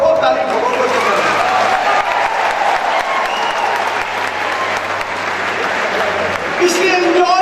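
A large audience bursts into sustained, loud applause at a corporate event with Navjot Singh Sidhu, steady dense clapping that carries on for several seconds with a few cheers near the end.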